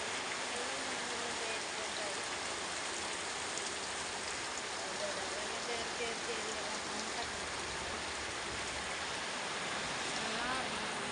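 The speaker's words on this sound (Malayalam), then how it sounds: "നല്ല മഴ പറഞ്ഞാൽ നല്ല മഴയാണ്" Heavy rain pours in a dense, continuous hiss that stays even and unbroken throughout, with no voices over it.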